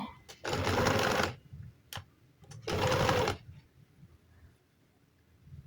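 A sewing machine stitches boot piping onto fabric in two short, loud bursts of rapid whirring, separated by a pause with faint handling sounds and quiet talk.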